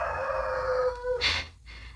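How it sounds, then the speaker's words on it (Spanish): A neighbour's rooster crows from nearby, one long drawn-out call followed by a short higher burst, heard clearly over low background hum. "Ya conocen al gallo de mi casa,"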